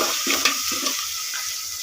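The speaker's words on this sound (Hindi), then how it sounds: "अब लहसुन और अदरक का पेस्ट ऐड कर रही हूँ मैं।" Garlic and ginger paste added to browned onions for dhaba-style moong dal fry sizzles close up in a pan, with a couple of brief stirring scrapes over a steady hiss.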